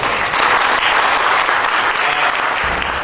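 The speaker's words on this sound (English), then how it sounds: "So can I get a round of applause?" Loud, dense applause from a large crowd at a startup bootcamp event fills the whole clip, a constant roar of clapping hands close by.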